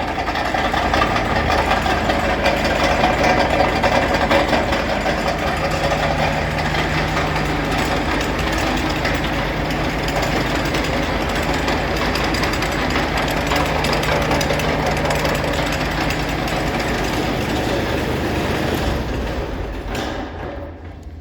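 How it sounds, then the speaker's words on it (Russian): Auger-rotor snow blower (Tula Progress 1500, 150 cm width) on a 20-horsepower Japanese Iseki Sial mini tractor, running as a steady, loud, rough mechanical drone with knocking engine texture, continuous throughout before tailing off at the end. "Установлен данный снегоотбрасыватель на японский мини-трактор 20-сильный Исеки Сиал"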